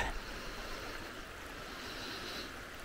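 A Pyrenees mountain stream running steadily, a constant soft wash of flowing water at low level with no breaks and no voices.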